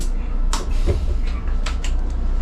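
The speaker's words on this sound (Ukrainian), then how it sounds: "Зачиняю двері." A city bus door slides shut with a short mechanical thud and hiss, set against a steady engine idle, with a few brief clicks afterward.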